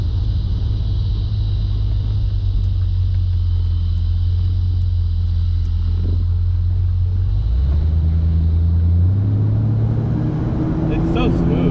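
A white 1972 Oldsmobile Cutlass Supreme convertible with a brown interior cruises around the block, its engine a steady, loud low rumble that shifts pitch midway as it changes speed, with voices talking over it near the end.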